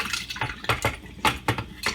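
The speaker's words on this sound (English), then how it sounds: "This is canned sweet potatoes, and we're just going to pour it in there" Canned sweet potatoes pour from the can into a bowl in a series of soft, wet plops and slides, close and quiet, in a home kitchen.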